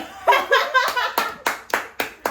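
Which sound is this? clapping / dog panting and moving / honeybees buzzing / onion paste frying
clapping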